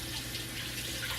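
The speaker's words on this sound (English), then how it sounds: "let the water run over my hands onto the chicken" Tap water runs steadily over a raw chicken breast in a kitchen sink, making a continuous, even splashing hiss that stays close and moderately loud throughout.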